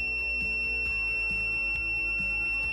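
An electrical tester, checked on a neutral wire, gives a continuous high-pitched beep. The beep is loud and steady throughout, with faint rhythmic knocking underneath.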